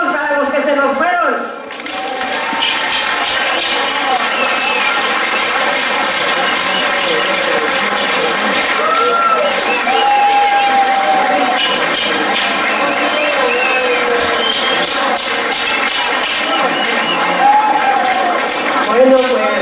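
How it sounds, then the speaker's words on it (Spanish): A crowd at a 2017 carnival in Santa María Coatzintla gives a long minute of applause for the departed, a dense, loud, continuous wash of clapping that runs nearly twenty seconds with faint tonal sounds underneath. "un minuto de aplausos para los que se nos fueron"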